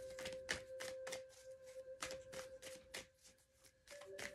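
Tarot cards being shuffled by hand, a rhythmic series of soft riffling snaps and taps at close range, quiet with a faint tonal hum underneath.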